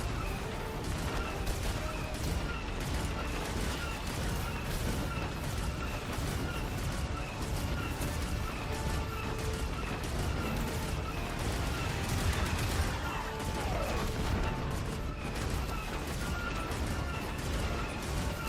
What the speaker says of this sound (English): Missile barrage incoming!